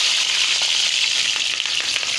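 Chillies and capsicum sizzling in hot oil, a dense, steady, loud frying hiss with small crackles throughout and no voices.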